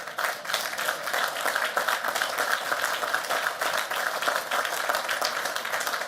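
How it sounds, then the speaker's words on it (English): Audience applause at a West Point graduation ceremony, a broad sustained roar of many hands clapping at a constant level throughout, heard from within a large crowd. "You can clap for that."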